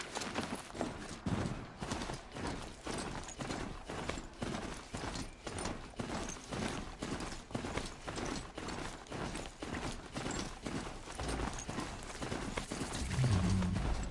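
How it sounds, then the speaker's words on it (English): Heavy armored footsteps in Horizon Zero Dawn thud in a steady, rapid rhythm for the whole stretch, loud and close, with no voices over them. "My footsteps sound super heavy with this armor."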